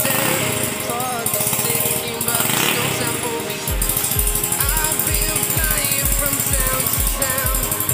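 A standard Yamaha F1ZR two-stroke engine built for open road racing runs with no exhaust fitted, a loud, harsh, rapid popping bark close by that stumbles briefly before steadying into fast even firing, with talk mixed in.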